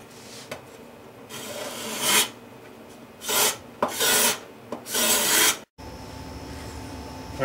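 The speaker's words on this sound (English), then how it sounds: "So I'll just get them all uniform with the scraper here." Hand scraper drawn across wooden guitar binding in a workshop, five or six loud rasping strokes of roughly half a second each, close and dry, with quiet pauses between them.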